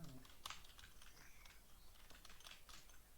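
Quick, irregular key clicks from a computer keyboard as Java code is typed by hand, close and fairly quiet, with a sharper cluster of strokes near the start and again toward the end.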